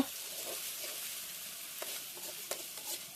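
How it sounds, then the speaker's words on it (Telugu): Ginger garlic paste frying with onions for a spicy chicken leg curry, a steady close sizzle punctuated by several sharp stirring clicks and scrapes of a spoon against the pan, with no voices. "ఈ అల్లం వెల్లుల్లి పేస్ట్ పచ్చివాసన పోయేదాకా మీరైతే వేపుకోవాలి"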